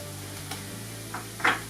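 Nuts tipped into a frying pan of porchetta stuffing under a low steady hum, with a few quick rattling scrapes and a brighter clatter near the end, close by.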